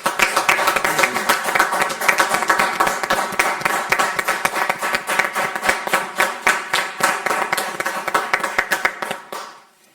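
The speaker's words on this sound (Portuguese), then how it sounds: "Eu ia dizer que era esta altura de uma enorme salva de palmas e ela realmente aconteceu" Hands clapping in steady, dense applause at a Hippocratic Oath ceremony of the Portuguese medical association in Coimbra, a close, sustained patter of many claps that thins out and fades to silence in the last second.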